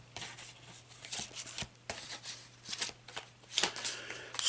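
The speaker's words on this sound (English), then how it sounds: "And we just cut the deck there." A deck of cards riffle-shuffled and cut, giving repeated crisp papery bursts and flutters at close range against a steady low hum, with no voices.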